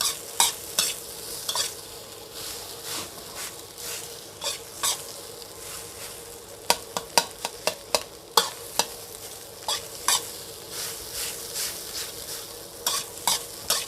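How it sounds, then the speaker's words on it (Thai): Egg and rice are stir-fried together in a pan, with a soft steady sizzle and a spatula scraping and clacking against the metal in irregular bursts, some sharp and close, with no talking. "ผัดให้ไข่เข้ากับข้าวเลย"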